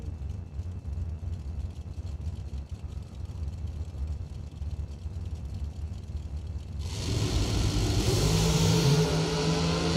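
Dragsters at Bradenton Motorsports Park, a distant engine drone that suddenly erupts into a loud, broad roar as a car launches down the strip and holds full power to the end.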